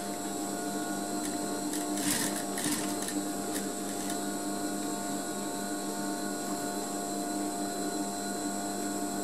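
A sewing machine stitching a zipper fly in a tailoring class, a steady mechanical whir with a harmonic motor hum and a brief burst of sharper clattering stitches near the start, moderately close.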